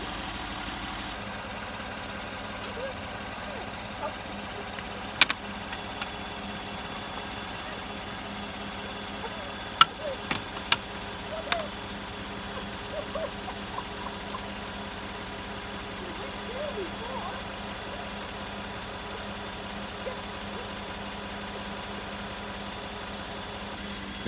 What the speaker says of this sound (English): The vehicle is still running on the alternator right now.